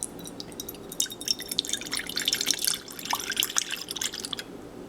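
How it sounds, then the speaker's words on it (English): Marinade ingredients for raw marinated vegetables poured into a bowl, a close, irregular patter of drips and splashes lasting several seconds with no voices. "I'm going to start with pouring all this into a bowl."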